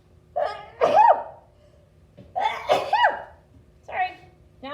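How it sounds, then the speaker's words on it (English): Two full sneezes from a person, each with a sharp inhaled build-up and a loud burst, followed by a third smaller sneeze-like burst, close and loud in a quiet room. "I'm gonna sneeze first, though."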